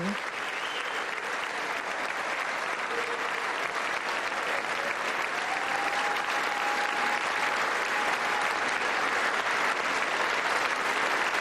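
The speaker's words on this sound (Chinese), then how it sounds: "有手举着乌克兰国旗的议员接受大家的掌声" Sustained applause from a large audience in a legislative chamber at a US State of the Union address, a dense, even roar of clapping that carries on unbroken throughout.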